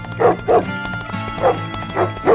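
A dog barks five times at a steady, fairly even pace, loud and close.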